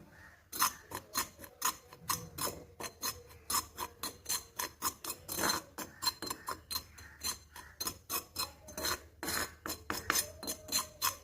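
Rhythmic scraping and rasping as a spoon stirs a dry powder mixture for a home remedy for gray hair in a bowl, strokes repeating quickly and evenly, quiet and close.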